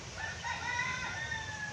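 A rooster crows in one long, drawn-out call with bright harmonic tones, fairly close and steady over a low background rumble.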